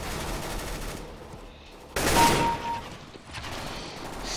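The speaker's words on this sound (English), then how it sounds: "In this round, we're gonna use the AK-47." A brief burst of AK-47 fire in Counter-Strike: Global Offensive, short and fairly quiet, over low game ambience with no talking.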